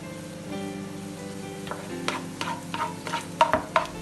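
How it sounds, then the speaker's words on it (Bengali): Fried onion slices being poured into a pot of cooking red lentils with bottle gourd, giving a few sharp sizzling splashes and clatters near the end over a soft background bubble. "এবার আমি এগুলো ডালের মধ্যে ঢেলে দেব।"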